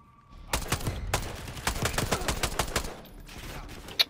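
Semi-automatic gunfire from Black Ops 6, a rapid series of roughly a dozen sharp shots in quick bursts, close and loud, with a final crack at the end; no speech.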